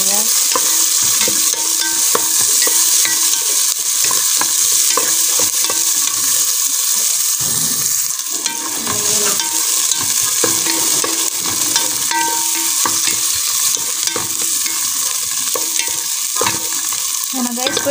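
Onions sizzle and fry in a hot pan as they brown, with a steady loud hiss and occasional scraping stirs, close up and without talk.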